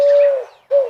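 Bird call from the Myth Rhythm percussion and FX sound kit: a loud, close pigeon-like coo held steadily, a brief gap, then a second shorter coo, with no other sounds.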